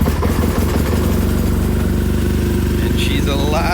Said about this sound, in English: how about you hear your bike fire up for the first time since it left Germany?